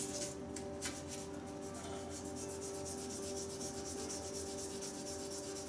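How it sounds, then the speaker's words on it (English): A wooden razor handle being hand sanded, steady rhythmic rubbing strokes close by, faint and continuous with no talking. "I'm just going to give this a bit of a rub by hand now."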